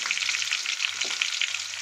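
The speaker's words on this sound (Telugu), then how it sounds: "జీలకర్ర వేసాక ఉల్లిపాయలు వేసేద్దాం" Steady crackling sizzle of cumin and onions frying in hot oil, close and continuous, with faint low clatter underneath.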